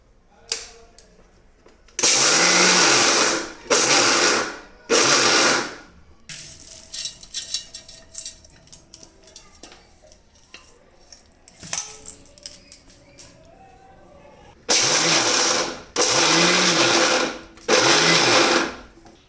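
A kitchen mixer grinder whirs loudly in short pulses while coarsely crushing peanuts, three early and three later, with quieter clattering and handling noises between the bursts.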